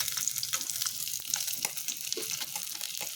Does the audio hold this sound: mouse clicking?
no